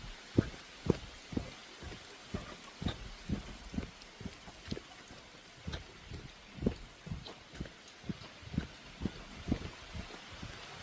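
Water dripping from trees after rain on a homestead, a steady patter of irregular drops striking the ground and surfaces nearby, much like light rainfall, with no voices.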